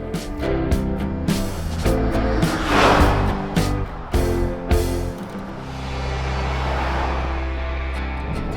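Steady low road rumble from all-terrain tires fills the cabin of a 2025 Honda Pilot TrailSport on the move, with a few brief knocks and a smoother, quieter stretch toward the end; no one speaks.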